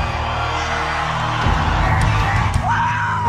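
Women in a church service shout and yell euphorically, a loud, dense crowd roar of overlapping voices that keeps going throughout, with sharp rises and a wavering cry near the end.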